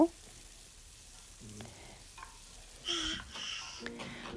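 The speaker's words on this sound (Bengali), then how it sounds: "পেঁয়াজটাকে এখন আমি কিছুক্ষণের জন্য ভেজে নেব" Onion fries with spices in oil and ghee for a mutton biryani, a faint, steady sizzle with a few soft clinks and a louder burst of activity partway through.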